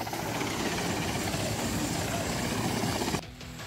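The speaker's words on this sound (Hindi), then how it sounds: "भारतीय वायुसेना के हेलीकॉप्टर ने इन्हें सुरक्षित बचाकर" An Indian Air Force rescue helicopter over flooded northeast India gives a loud, continuous rotor and engine roar that cuts off abruptly near the end.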